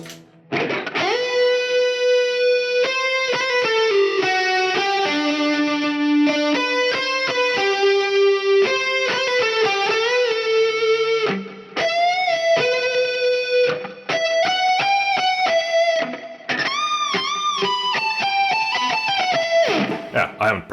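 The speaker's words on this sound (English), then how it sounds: "a solo snapshot, which is even more delay and reverb" A loud, sustained electric guitar solo played through a Line 6 Helix in a Gallien-Krueger-style tone, drenched in heavy distortion, delay and reverb; singing bent notes run for about twenty seconds with a few brief gaps.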